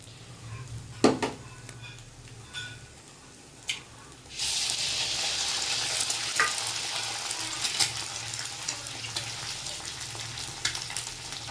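An egg frying with pointed gourd in a pan for a bhujia, with a few clinks at first, then a steady close sizzle from about four seconds on, no talk.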